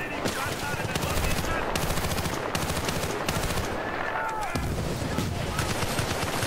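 An M60 machine gun fires in Bad Company 2 in long rapid bursts broken by short pauses, loud and close, with other gunfire mixed in.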